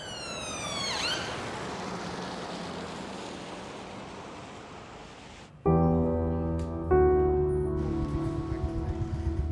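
An emergency vehicle siren wails with a falling sweep at the start, then gives way to a steady broad rumble and later loud, sustained harmonic tones, heard alone without talk.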